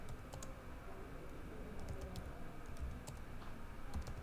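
Fingers type on a computer keyboard in a quiet room, a soft, steady run of small key clicks with a few sharper taps, faint and near, with no voices.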